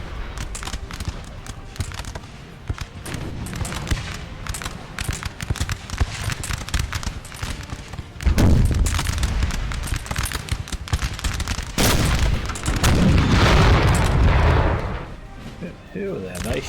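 Musket volleys and artillery fire crackle and boom continuously through a Napoleon: Total War battle, dense rolling gunfire with louder cannon blasts surging midway and near the end.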